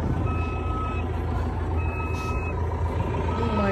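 Truck reversing beeps from the video game Truck Simulator: a steady high electronic tone that starts and stops twice, over a dense engine rumble, with no talk.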